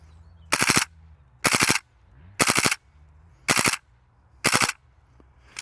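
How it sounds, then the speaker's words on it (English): King Arms M1 Carbine gas blowback airsoft rifle firing five sharp full-auto bursts, each a rapid rattle of shots, separated by short quiet pauses with no talking. "Let's switch to full auto and see can we actually get a burst out."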